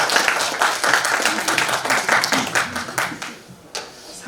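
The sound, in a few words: audience applause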